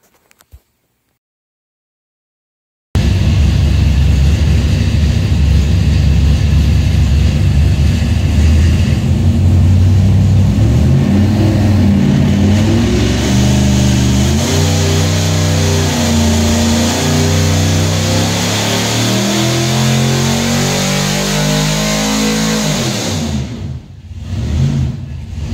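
A loud engine on a dyno fitted with a Race Demon carburetor and an air cleaner roars continuously and climbs steadily in pitch toward about 6,500 RPM, then cuts off sharply near the end.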